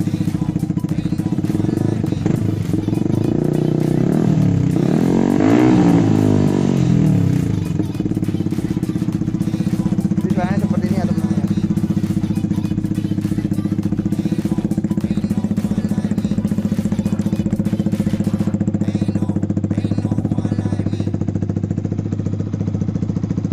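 A Yamaha R15 V3 motorcycle with an Austin Racing aftermarket exhaust runs steadily and loud, with a rising rev around the middle and a rough, throbbing exhaust note throughout, no voices.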